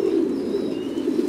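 Titan Thai meat pigeons at a pigeon farm make a continuous low, throaty cooing murmur, steady and close, with no voices.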